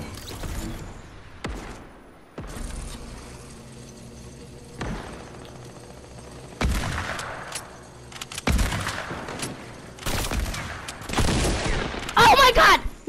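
Pistol shots and other gunfire in the Fortnite video game ring out in sharp, loud bursts, some in quick volleys, spread across the stretch with quieter game ambience between them.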